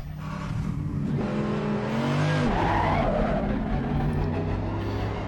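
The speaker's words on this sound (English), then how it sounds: "Alright, so Mercedes AMG GT3 around Spa in Assetto Corsa." A Mercedes AMG GT3 V8 race car at Spa in the Assetto Corsa game roars loudly, rising and falling through revs with a squeal of tires in the middle.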